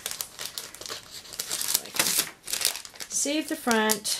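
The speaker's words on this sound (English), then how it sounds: "I don't want to rip the bag, but I kind of have to cut it." A plastic bag crinkles and is snipped open up close, with rustling and crackling bursts, and someone talks briefly near the end.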